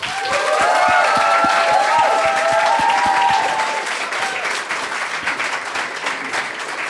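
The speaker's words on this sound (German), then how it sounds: "Einen herzlichen Applaus bitte für Isabella, für Juliana, Julian und für Chiara" An audience at a youth hackathon event in Austria applauds presenters, steady close clapping with voices cheering over it at first, then the clapping thins and fades slightly toward the end.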